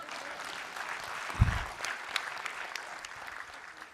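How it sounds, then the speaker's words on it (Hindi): An audience at a lecture applauds in a soft, steady patter that stays even and somewhat distant, with one brief low thump partway through. "इस पे जरा ढंग से ताली बजा दो यार"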